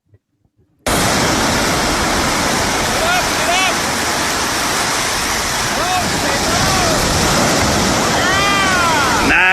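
Ocean waves crash and roar in a steady loud wash from a surfing clip played on a phone, with faint high squeals over the surf after a moment of quiet at the start.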